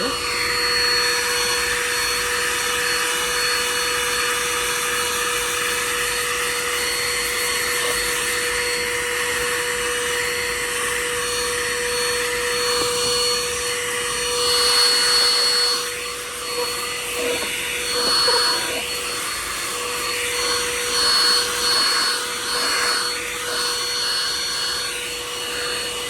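A UGREEN handheld car vacuum cleaner fitted with its brush attachment runs continuously, a loud steady motor whine with airflow hiss that shifts slightly as it sucks up debris, with a voice briefly over it.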